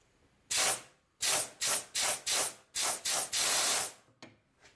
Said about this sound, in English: I realized that if I blow compressed air into this three-way valve,